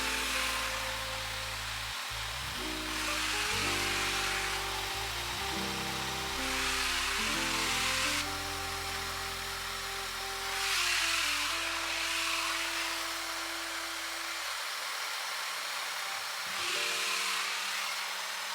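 Hair dryer fitted with a nozzle blowing hair during a quick blowout, its whine rising and falling in pitch as it moves, then cutting off before briefly returning.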